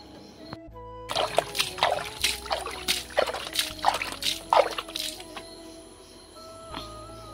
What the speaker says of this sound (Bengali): আর আমি খালি পায়ে পাও ধুয়ে নিয়েছি, আর একবার ধুয়ে নিই।